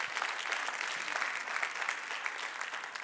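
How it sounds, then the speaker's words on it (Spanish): Congregation at a Spanish-language church service applauding, a fairly quiet but steady patter of many hands heard at some distance, continuous and even throughout. "Un aplauso al Señor,"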